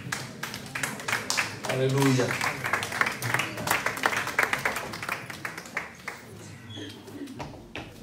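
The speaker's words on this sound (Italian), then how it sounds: "Questo era un applauso per l'Apostolo Paolo." A church congregation in Novara applauds, with sharp, uneven clapping bursts mixed with loud talk and an exclaimed cheer from a voice in the room.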